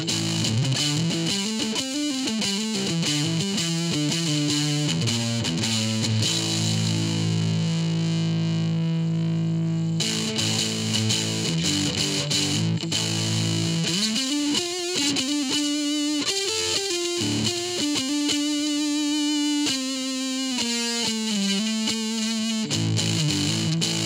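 Electric guitar played through a Carl Martin Crush Zone distortion pedal on the neck pickup, with thick, saturated 90s-style distortion, sustained chords and riffs, a brief near-silent break around ten seconds, then more riffing.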